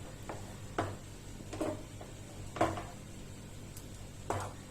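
A spoon scrapes and knocks against a pan while milk powder is stirred into melted sugar for mango halwa. The strokes are separate and irregular, about half a dozen, close and moderately loud over a quiet background.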